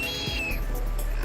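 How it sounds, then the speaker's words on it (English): A blue duck on a New Zealand high country stream gives a short, clear whistling call that slides downward, heard once and fairly close over steady running water. "Our iconic blue duck."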